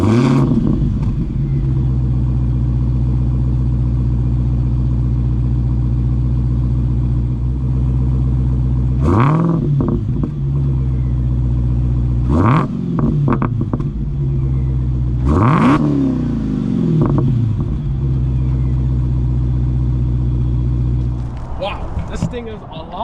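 A Dodge Demon 170 idles with a deep, loud rumble, then three sharp revs climb to the limiter and fall back with pops, close by and dominant throughout.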